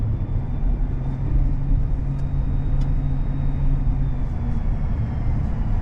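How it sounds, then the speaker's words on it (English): A pickup truck's drivetrain in four-wheel drive while plowing deep snow gives a thin, steady, faint whine that holds over a low, constant engine and road rumble throughout. "there's a definite whine when it's in four-wheel drive"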